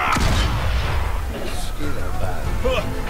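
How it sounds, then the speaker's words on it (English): Soldiers fire practice shots in the World War I game Valiant Hearts: The Great War, with sharp gunshot cracks that fall mostly near the start, a person talking over them, and fainter reports later. "Oh, they're practicing shooting."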